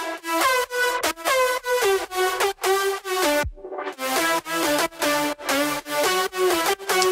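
Layered lead synth melody in an electronic music production, a bright rhythmic run of short plucky notes with a brief downward swooping pitch drop midway, playing alone and close.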